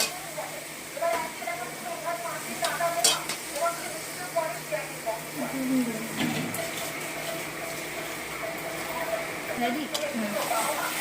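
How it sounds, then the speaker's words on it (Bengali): Marinated chicken tipped into a frying masala and stirred, with a steady sizzle and repeated scraping stir strokes throughout, under intermittent background voices. "এবার মেখে রাখা মাংসটা এর মধ্যে দিয়ে দেব।"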